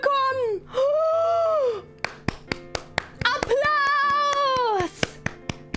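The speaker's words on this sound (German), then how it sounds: "Ein Applaus für dich!" A short burst of hand clapping with sharp, evenly spaced claps between two long, loud drawn-out vocal sounds, heard in a Minecraft game session; the claps are close and distinct.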